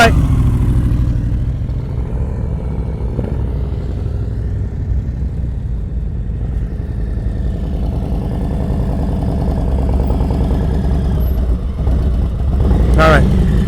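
Motorcycle engine held at a low, steady throttle during slow-speed riding practice, a continuous close rumble with a short rise in revs near the end, while an instructor talks over it.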